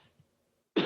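One short, sharp cough close by after a moment of near silence.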